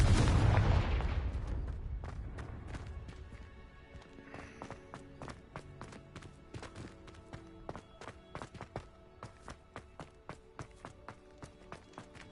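A fire-blast spell cast in the video game Hogwarts Legacy on PS5 sounds as a loud opening burst that decays over several seconds. A rhythmic run of hoof-like clopping follows underneath.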